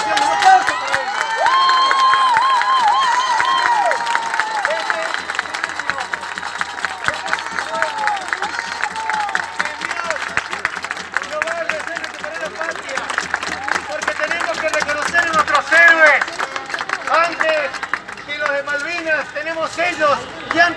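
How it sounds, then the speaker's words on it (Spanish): A crowd claps and cheers at an outdoor right-wing flag rally in Tucumán honouring soldiers. The applause is steady and dense and lasts around twenty seconds, with voices and crowd babble mixed in. "¡Un aplauso para ellos!"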